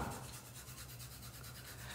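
Steady abrasive rubbing of sandpaper against a paintbrush, a continuous close scratchy rasp with slight rhythmic strokes, alone with no talk.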